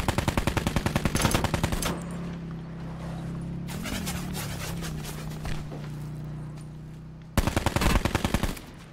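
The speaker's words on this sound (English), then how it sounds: "Now I got another guy shooting at me." Rapid automatic gunfire from Call of Duty: Black Ops 4 Blackout, loud near bursts at the start and again near the end, separated by a steady mechanical drone.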